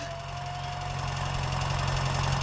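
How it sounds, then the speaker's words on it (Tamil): Steady rumble of a vehicle engine running close by, holding at an even level with a slight rise toward the end, alone with no talk. "அங்க ஒரு வண்டி வருது"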